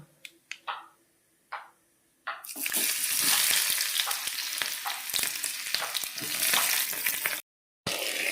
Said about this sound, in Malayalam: കടുകിട്ട് പൊട്ടിച്ച് ചെറിയ ഉള്ളി ഇട്ട് മൂപ്പിക്കണം.